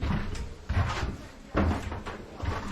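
A door on a small vintage airliner of about 34 seats is worked open and shut, giving a few dull thumps and clunks at close range, with no speech.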